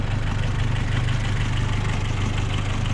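An old engine idling quietly, a steady low rhythmic chugging that stays even and unbroken throughout with no voices.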